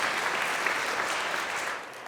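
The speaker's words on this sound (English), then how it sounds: "I just want to give them a big round of applause for all the incredible work" Brisk, full applause from a congregation at a church homily honoring school pastors, a dense steady patter of many hands that tapers off toward the end of the short burst.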